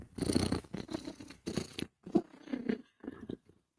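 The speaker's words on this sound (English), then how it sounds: "Because if Cat is purring, Cat is a happy, happy girl" A contented female cat purring up close, a steady rumbling purr in rhythmic pulses that swell and fade with each breath, with short pauses between.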